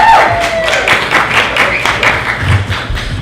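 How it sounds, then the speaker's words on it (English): Short burst of outdoor crowd clapping at a PARKing Day Dallas event, a scattered round of hand claps from a small audience that fades out within a few seconds, faint voices murmuring underneath. "big round of applause for Jessica"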